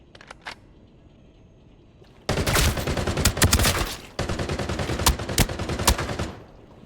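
Automatic assault rifle hip fire in the shooter game Arena Breakout comes in two loud, close bursts of rapid shots, with a short gap between them and a few faint clicks before.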